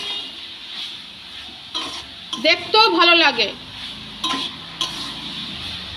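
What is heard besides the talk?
bathua greens being stir-fried in a wok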